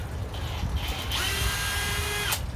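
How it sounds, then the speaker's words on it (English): An electric drill bores out a hole in a part of a cheap Chinese chainsaw while fitting a side chain tensioner, a steady close whine that rises in pitch midway and then cuts off near the end. "Doesn't really matter what direction you go, just drill it out."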